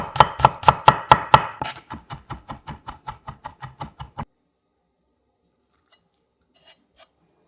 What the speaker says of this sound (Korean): 통마늘 2개는 다져서 담고